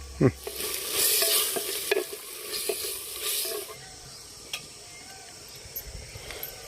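Tomato and peas frying in a clay pot for tomato bath, cooked outdoors in a courtyard: a bright sizzling burst under stirring, then scattered scrapes and knocks of the spoon as the frying settles.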